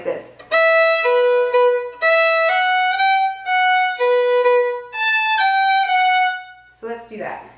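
Fiddle playing a phrase of a tune, a clear sequence of sustained bowed notes moving step by step, close and bright, with a brief pause before the final notes.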